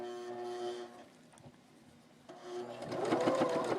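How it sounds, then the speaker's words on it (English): A sewing machine stitching fabric for a doll skirt, motor whirring in short runs, then pausing, then speeding up into a louder, faster buzz of stitching, close by. "just lower your presser foot and start sewing"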